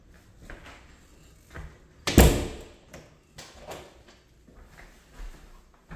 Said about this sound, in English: Door to let you go outside.